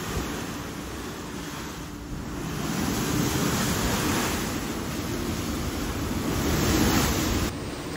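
Ocean waves in the Drake Passage, heard from a ship's balcony: a steady, heavy roar of surf and rushing water that swells and eases, with wind noise and no voices.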